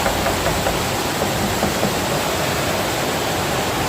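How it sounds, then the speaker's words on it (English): Indoor waterfall under a dome ceiling in Las Vegas, a loud, steady broadband rush of falling water echoing in the enclosed space, constant throughout with no talking. "it's the waterfall that makes this crazy loud"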